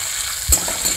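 A whole tomato and salt are stirred into hot oil with bay leaf in a frying pan: a steady sizzle with one quick scrape of the spoon midway, close, with no talk.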